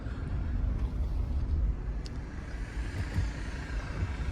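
A 2016 Mitsubishi i-MiEV electric car in reduced-power turtle mode drives along a small test track, a quiet, steady low road rumble with no engine note, heard from inside and without talk.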